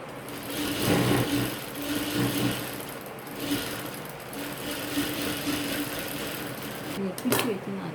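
A sewing machine stitches a churidar neck piece with a fast, steady, close mechanical hum that runs throughout. A voice is heard at times over the machine.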